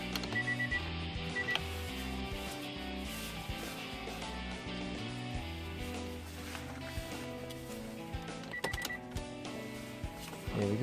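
Electric folding side mirror motor on a Nissan Elgrand Rider Autech 3.5 whirring as the mirror folds, with clicks and short mechanical bursts in a quiet car cabin and a louder clunk near the end.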